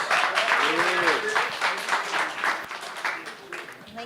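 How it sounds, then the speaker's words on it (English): Audience applause at a media freedom festival session, strong at first and gradually thinning, with voices talking over the clapping. "Can we give Naledi a huge round of applause, please?"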